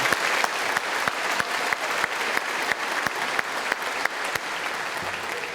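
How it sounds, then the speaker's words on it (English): An audience at a high school graduation ceremony applauds, with steady, dense clapping of many hands throughout and no talking. "So please join me in giving her a round of applause."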